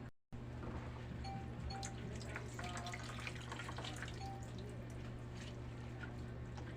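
Water-soaked banana heart squeezed by hand, liquid dripping and trickling steadily into a container, close and fairly quiet over a constant low background hum, with no talking.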